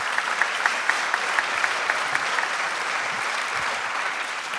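Audience applause at a public-service mediation round table, a steady wash of many hands clapping at moderate distance, with a few sharper individual claps standing out.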